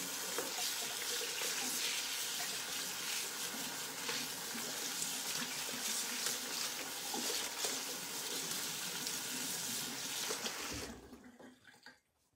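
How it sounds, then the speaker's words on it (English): A kitchen tap runs steadily as hands are rinsed under it during sourdough preparation, a close, full splashing wash of water that stops abruptly near the end. "Going to rinse my hands."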